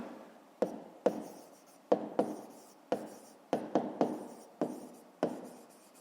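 Pen strokes scratch across paper in a classroom math exercise, a steady series of about a dozen short rubbing strokes with sharp starts, close and fairly quiet, with no talking.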